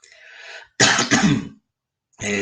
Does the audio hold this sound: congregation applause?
no